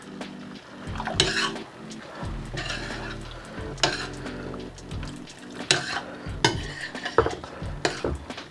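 A spoon scrapes and clinks around a metal pot of prawn curry in irregular strokes while food sizzles softly underneath.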